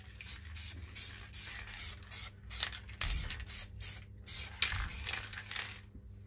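A spray paint can paints a VW Golf Mk2 grille part black in repeated short hissing bursts separated by brief pauses, heard nearby and fairly quiet.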